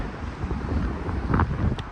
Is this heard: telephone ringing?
no